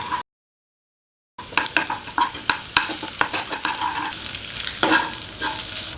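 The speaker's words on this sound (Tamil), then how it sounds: "இப்போ சிக்கனை ஒரு ஓரமாக தள்ளி வச்சுட்டு ஒரு முட்டையை ஊற்றிக்கிறேன்" Egg poured into a frying pan beside chicken and stirred, giving a steady sizzle with repeated scraping strokes of a spatula after a brief gap of silence at the start.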